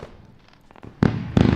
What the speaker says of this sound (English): Explosions. Happy fireworks for Happy Friday times.